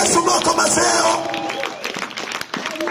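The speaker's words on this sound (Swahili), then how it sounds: "Pigia Yesu makofi." A crowd bursts into clapping and cheering, loud and dense at first, then settling into scattered applause and murmuring voices.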